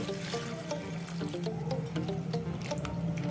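Salted bitter gourd slices are washed in clean water, with steady close splashing and sloshing as the pieces are rubbed and stirred by hand.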